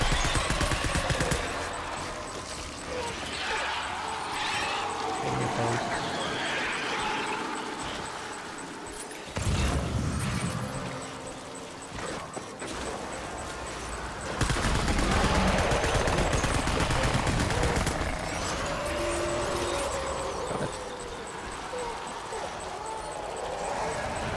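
Repeated gunfire in a video game as shots are aimed at a target, bursts of rapid firing recurring throughout over busy game sounds, with someone talking between volleys.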